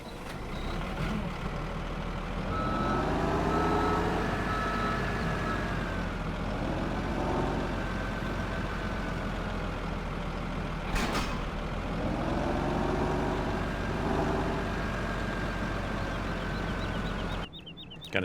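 A farm truck in Farming Simulator 17 with a steady, droning diesel engine running close by throughout, faint tonal beeps, and a brief hiss partway through.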